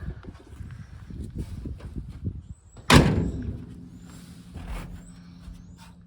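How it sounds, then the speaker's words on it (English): A car door on a 1940 Ford is shut with a single loud, close metallic slam and a brief ringing decay, preceded by low rustling handling noise. "If you shut the door,"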